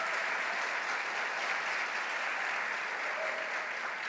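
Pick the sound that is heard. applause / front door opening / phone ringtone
applause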